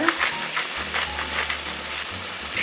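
Green tomato slices frying in a pan for a Southern fried green tomato breakfast give off a steady, close sizzle and crackle with no talking over it.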